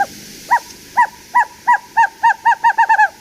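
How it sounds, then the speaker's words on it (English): Elf owl giving its bouncing-ball call: a series of about eleven clear, hooting double-toned notes that begin spaced apart and speed up steadily toward the end, fairly close and alone with no talk. "then they do the bouncy ball and then the tremolo."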